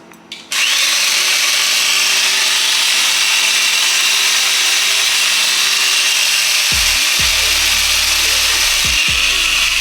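A tufting gun for rug making runs at high speed, starting abruptly after a brief click and holding a loud, continuous close-up motor whine, with dips in pitch near the end.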